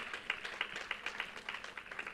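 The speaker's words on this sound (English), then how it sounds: "Round of applause for them, ladies and gentlemen." Audience clapping for speakers and participants at a startup event, a faint, brief patter of applause with distinct individual claps.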